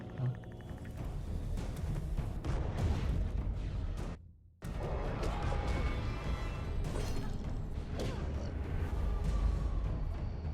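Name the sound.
cannon fire in video game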